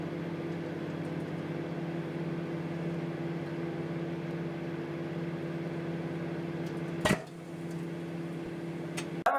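A microwave hums steadily, then an egg inside explodes with a sudden sharp pop near the end before the humming continues, followed by another brief knock.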